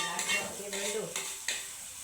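Food frying in a pan is stirred with short, repeated scraping strokes over a soft, steady sizzle, close and fairly quiet.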